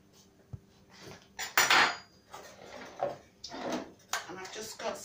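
A knife cuts through hard bread rolls on a kitchen surface, making a few crisp crunching and sawing strokes mixed with light clatter of utensils, close up and fairly quiet.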